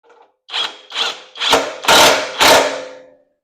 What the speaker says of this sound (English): You could hear the impact,